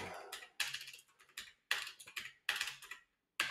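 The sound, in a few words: typing on a new computer keyboard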